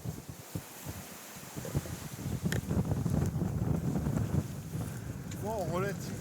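Steady wind of about 15 to 20 knots blowing across a sailboat on a Pacific crossing in grey, drizzly weather, with a constant rushing roar, hull and rigging noises, and a faint whistling tone near the end.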